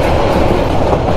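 The Tista Express rolls along the rails near Mymensingh Junction in Bangladesh at about 45 km/h, a loud, continuous rumble heard close up from on board.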